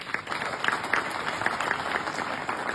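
Applause at a closing dinner in Madison, a steady, moderately loud patter of many hands clapping together throughout, with no voices over it.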